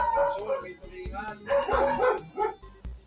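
A dog barks and yips repeatedly in short bursts, close and fairly loud, with whimpering in between.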